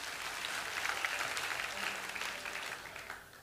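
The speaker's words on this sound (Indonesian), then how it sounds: "kasih tepuk tangan untuk Tuhan" A church congregation applauds during a sermon, a dense hiss of many hands clapping that swells and then fades toward the end, with no voice over it.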